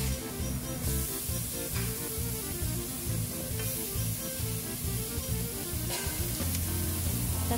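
Chopped tomatoes and green chilies hit cooked masala in a hot pan for a vegetable soup, giving a steady close sizzle and frying crackle with faint stirring scrapes throughout, with no voice.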